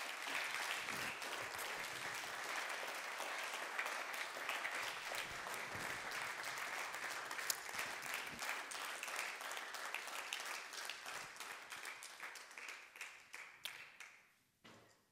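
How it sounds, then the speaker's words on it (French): Long, even applause in a municipal council chamber in Villefranche for a newly sashed deputy mayor, with a few sharper individual claps standing out before it tapers off and stops. "Applaudissez-la"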